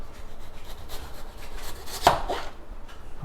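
Knife slicing raw potatoes into thin strips for fries on a board, producing soft rhythmic cuts with one sharper knock, close and moderately quiet.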